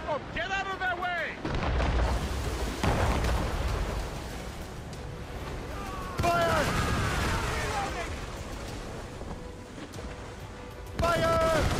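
Ship cannon broadsides boom repeatedly in a naval battle in Assassin's Creed Rogue, loud rolling blasts and rumbling explosions layered over shouted crew voices and chaotic battle noise.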